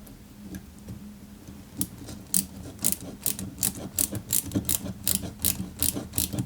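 Small screw being driven by hand into a part of a 1/8 scale Citroën 2CV AZLP model kit, with rapid clicking ratchet-like ticks in a quick rhythm, close and fairly loud.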